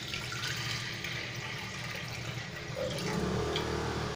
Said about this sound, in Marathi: यात मी घालतीये पाणी.